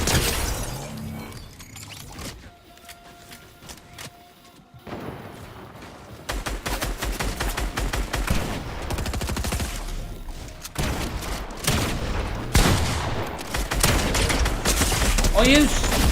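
Gunfire in Fortnite during a Star Wars solos match, dense rapid shots and bursts building over a noisy stretch, loud and close, with a voice talking at times.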